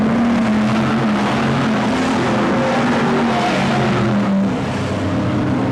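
BriSCA Formula 1 stock cars race around the Kings Lynn oval in 1993, a dense and constant engine roar with shifting revs and tire noise, loud and close, with no voices.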